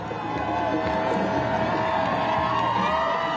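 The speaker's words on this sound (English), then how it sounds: "The roads lined with crowds cheering their return." A crowd lining a road in Israel cheers and shouts continuously, a busy wash of voices with whoops rising over the noise.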